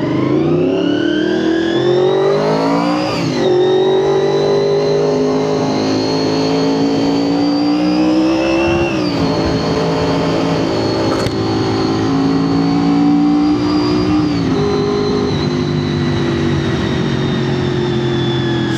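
A Honda VFR 400K motorcycle engine revs steadily and loudly while riding, its pitch climbing and dropping through several gear changes, with no talk.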